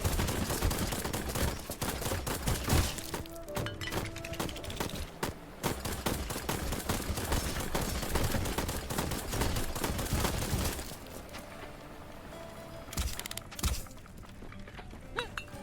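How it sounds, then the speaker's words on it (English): Cannon broadsides from flying warships and invading pirates battling above the clouds in a video game, heard as a dense, continuous barrage of booming shots and impacts that thins out and becomes more scattered toward the end. "I didn't want to shoot the cannons."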